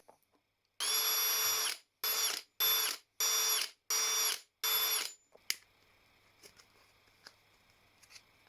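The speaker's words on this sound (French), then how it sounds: "il faut faire une douzaine de tout petits trous de 1 mm de diamètre" A power drill bores a dozen tiny 1 mm holes in a plastic bait box for a homemade mosquito trap, sounding as six loud, even bursts of whining motor with short gaps between, followed by quieter handling clicks.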